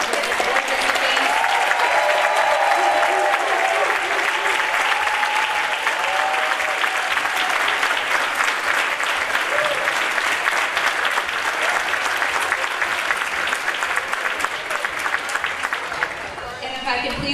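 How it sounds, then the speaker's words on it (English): A large audience gives a long, loud round of clapping for award recipients at a women's awards event, steady and enthusiastic, with a few voices mixed in. "can we just have one more round of applause for all of the award recipients?"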